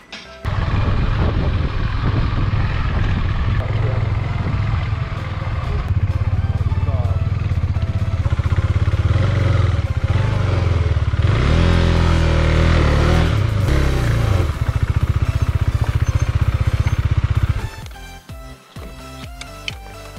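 Motorcycle ridden on the mountain road to Muktinath in Mustang, Nepal: a loud, steady engine drone with road and wind rumble throughout, easing off and dropping away near the end.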